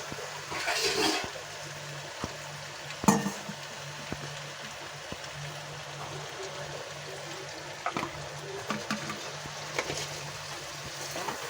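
A glass of water is tipped into a pan of cauliflower and potato curry: a brief gushing splash, then a steady low sizzle with scattered clinks of utensils against the pan.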